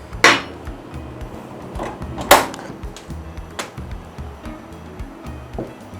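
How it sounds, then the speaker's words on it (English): A couple of sharp metallic clanks as a heavy frying pan is set down on a stove, followed by lighter knocks and rattles nearby. "Put my frying pan here."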